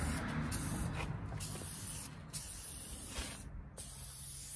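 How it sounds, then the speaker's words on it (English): Steady hissing of an aerosol spray can being sprayed outdoors, continuous and fairly close, with a few brief pauses and no talking. "This can is actually sprayed pretty nice."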